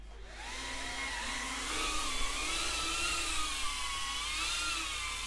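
Motors of a BetaFPV Cetus X FPV drone spin up indoors, a steady close whine with wavering, rising and falling pitch as the small propellers hold the craft hovering; no voices.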